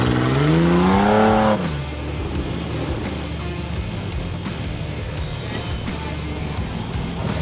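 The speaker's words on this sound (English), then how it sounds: "I think I have a gearbox getting ready to go out on me. Yeah, I can hear it whining" A car engine revs as a failing gearbox whines with a rising tone that climbs then drops, followed by a steady lower drone of the motor running.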